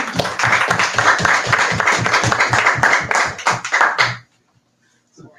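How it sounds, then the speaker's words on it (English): Audience applause at a bookstore author event following a novel reading, dense steady clapping from a crowd for about four seconds before cutting off into near silence. "All right, let's have a round of applause."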